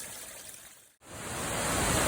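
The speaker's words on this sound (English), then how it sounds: "This is a feldspar waterfall." A feldspar waterfall gives a steady, broad rushing roar that briefly cuts out partway through, then returns and grows fuller.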